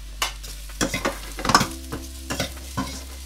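Mushrooms hit a hot wok already holding garlic and are stirred, giving a steady sizzle with a run of sharp scraping and clattering stirs up close; no one speaks.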